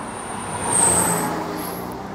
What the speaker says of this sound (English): Oh, that UPS truck was moving pretty good.